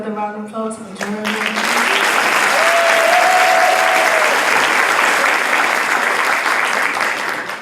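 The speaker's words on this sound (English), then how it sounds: "let's give another round of applause for Jeremy." Applause for Jeremy at a 2018 graduation ceremony for Camden Big Picture Learning Academy starts after a brief spoken line, then swells into loud, sustained clapping from a large crowd that slowly tapers near the end.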